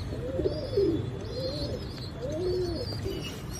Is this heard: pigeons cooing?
yes